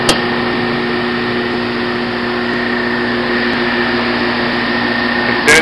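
An Irinox blast chiller's condenser runs as a loud, steady mechanical hum and roar of fan and compressor, with brief clunks at the start and end as the unit shuts off and pumps down.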